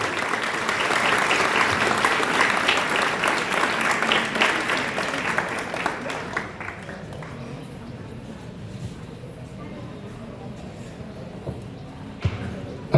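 An audience claps at a school farewell ceremony for standard 10 and 12 students, with loud, dense applause for about six seconds before it thins and dies away into quiet room noise.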